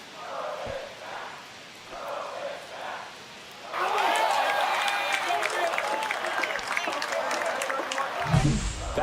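A baseball stadium crowd in MLB The Show 25, a Yankees versus Twins game in New York, reacting to a home run: a quiet murmur with commentary, then a sudden loud surge of applause and crowd roar that holds to the end.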